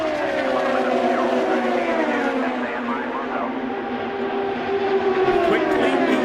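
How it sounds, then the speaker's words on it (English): IndyCar race cars running in a pack at Auto Club Speedway in Fontana in 2015, a dense chorus of high-revving engines whining and sweeping past in overlapping pitch glides, with a commentator talking over the roar. "now look at just cars all over the racetrack from top to bottom"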